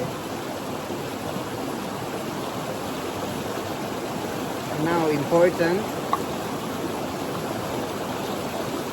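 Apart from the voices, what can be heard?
river water flowing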